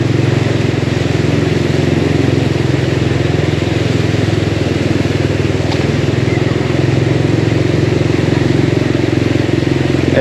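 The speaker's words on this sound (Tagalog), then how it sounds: "wala nang dumadaan dito halos tayo lang ang motor na dumadaan dito" A motorcycle engine drones steadily and loudly up close while riding through floodwater in Dampalit, Malabon, a constant low rumble with faint clatter throughout.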